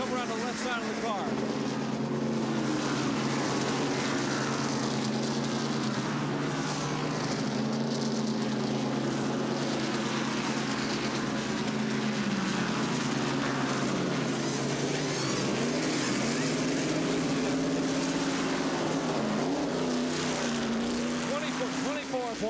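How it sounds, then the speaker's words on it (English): A NASCAR Winston Cup pit stop with a four-tire change at the 1989 Goodwrench 500: a loud, steady roar of race car engines fills the whole stretch, with pitch shifts as cars pass, and voices speaking underneath. "And the sound of a Winston Cup pit stop."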